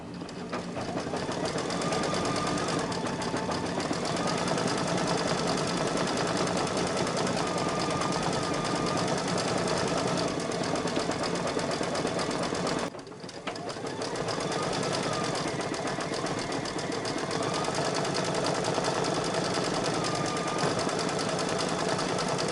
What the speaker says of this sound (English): This is going to do the outside satin stitch on the little inner ear.